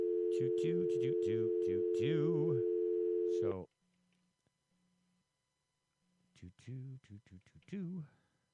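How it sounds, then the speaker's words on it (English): A telephone line tone after dialing: a steady held tone cuts off, followed by short repeated beeps on the line, with people talking before and after. "See if we can get Kevin. I hope I dialed right"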